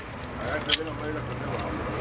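Door lock keys, a set of three, jingle and clink close by in short bursts while someone talks over them.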